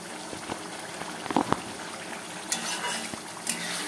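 Spice masala for a chicken dish cooks down in hot oil, bubbling and sizzling steadily up close, with occasional clinks and scrapes of a spoon stirring through it.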